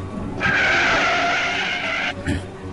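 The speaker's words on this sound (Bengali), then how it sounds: "গাড়িটা সাডেনলি আমার সামনে এসে একটি ড্রিফট মারল।" Tire skid from a drifting Ferrari, a single sustained squeal of about two seconds, loud and close, followed by a brief second chirp.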